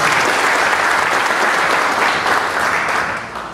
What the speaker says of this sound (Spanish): Representante también de la Policía Nacional Civil, que se ponga de pie y damos un aplauso.